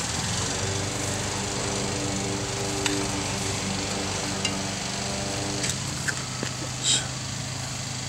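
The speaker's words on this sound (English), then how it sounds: "I've got another neighbor that just started mowing their grass." A neighbor's lawn mower drones steadily in the background as grass is mowed, a continuous engine hum with occasional light clicks and knocks nearby.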